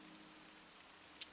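Rain falls in Morrowind, a steady, soft, distant hiss that holds evenly throughout, with one brief sharp tick near the end.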